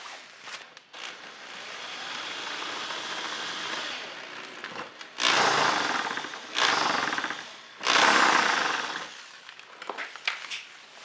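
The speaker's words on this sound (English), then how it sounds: "we just need to drill a new 5/16 hole for mounting." A power drill runs in a steady whine, then revs in three loud bursts as it bites through a vehicle's inner fender liner, drilling a 5/16 hole, with small clicks and rattles near the end.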